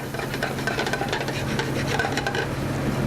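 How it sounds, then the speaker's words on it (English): A spoon stirs a roux of about two tablespoons of butter and a tablespoon and a half of flour in a pan, making a steady scraping and soft sizzle with a faint background hum and no talk. "I'm just going to stir this around."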